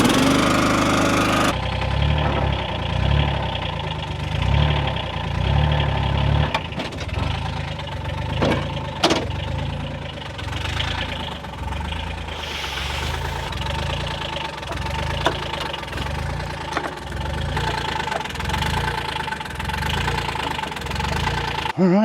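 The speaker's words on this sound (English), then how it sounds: "Start this machine up and lower this wedge all the way." An Eastonmade 12-22 wood splitter's engine runs steadily and loudly throughout, with a pulsing, knocking low rumble like a small lawn-mower-type engine idling close by, and no talk over it.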